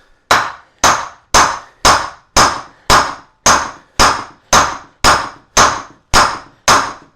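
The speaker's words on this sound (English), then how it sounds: "Let's get the lump hammer ready, shouldn't I?" A lump hammer strikes a wedge driven into a willow log, twelve loud, sharp metallic blows at a steady, unhurried pace of roughly one every half second to second, each ringing briefly before the next.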